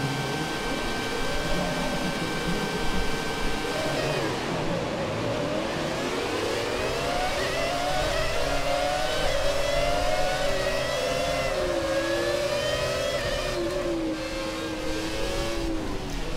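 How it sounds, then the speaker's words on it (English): A Formula 1 racing car engine in a video game (F1 2017, Haas car, Italian Grand Prix) roars continuously, pitch dropping then climbing through gear changes, with steady whirring revs and no talk. "I will let you guys just enjoy the sound of the engine"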